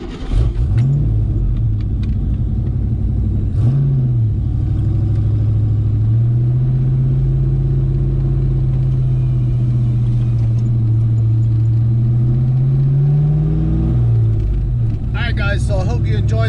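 A heavily budget-built car's engine drones steadily while driving, rising and falling in pitch as it pulls and revs, loud and close throughout.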